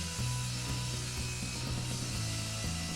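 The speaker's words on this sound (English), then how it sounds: "I'm ripping the length on the table saw." A table saw rips a length of wood for a folding tabletop easel, a close, loud, steady whine and rasp of the blade biting through the board, with brief dips in between and no voices.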